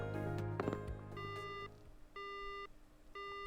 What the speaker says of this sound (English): The phone cuts off abruptly.